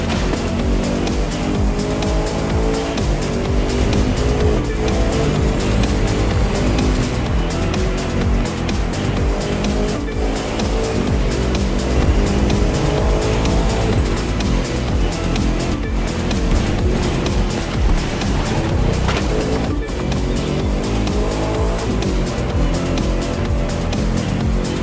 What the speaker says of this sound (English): Those engines are gonna make for a loud wake-up call if anyone's sleeping in this resort area today